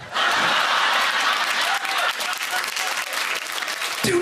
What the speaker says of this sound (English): Do not applause someone getting it wrong.